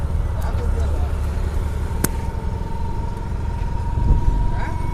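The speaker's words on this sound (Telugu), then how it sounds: "Share auto ఎక్కాం." A share auto rickshaw rides along a road in Tamil Nadu, its small engine humming steadily with traffic noise around it and a brief sharp click partway through.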